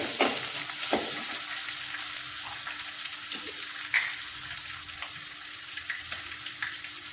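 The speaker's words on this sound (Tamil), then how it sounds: "கருவேப்பிலை ஒரு கொத்து சின்ன வெங்காயம் ஒரு கப்பு போட்டு தாளித்து" Curry leaves and small shallots tempering in hot oil for radish sambar, a steady close sizzle with a few sharp crackles and light stirring, no voices.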